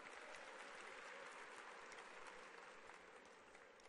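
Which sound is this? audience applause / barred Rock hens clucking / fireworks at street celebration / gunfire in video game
audience applause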